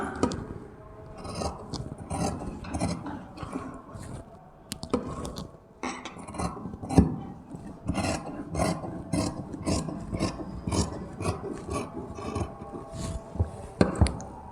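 Scissors cutting cotton fabric for a cross cut blouse, a steady run of close, crisp snips and rasping blade-on-cloth scrapes repeating at an even rhythm.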